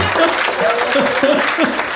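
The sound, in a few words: audience applause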